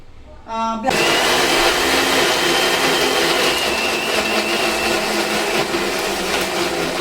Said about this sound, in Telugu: ఇప్పుడు దీన్ని మొత్తం మంచిగా బ్లెండ్ చేసి క్రీమీగా పేస్ట్ చేసుకోవాలి